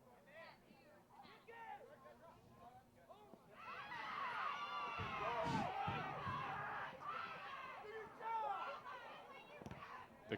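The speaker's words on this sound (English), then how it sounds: "The crowd definitely did not like the shove." A soccer crowd at a boys' high school match roars in disapproval after a shove, the noise swelling from scattered chatter into a loud mass of boos and shouts midway, then easing off with a sharp bang near the end.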